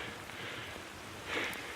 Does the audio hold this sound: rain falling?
yes